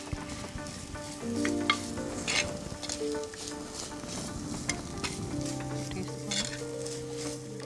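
Mushroom curry frying in a pan for a Coorg-style kummu curry, a steady close sizzle with scraping stirs throughout and no talk.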